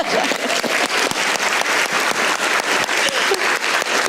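Studio audience applause on a comedy talk show, dense and sustained clapping that stays loud and even for about four seconds with no talking over it.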